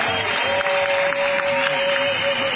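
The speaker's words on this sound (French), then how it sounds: "Applaudissez-vous." Loud, continuous crowd applause at a political speech in Anono, Côte d'Ivoire, a wash of clapping with faint cheering and voices mixed in throughout.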